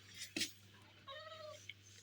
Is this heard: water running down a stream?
no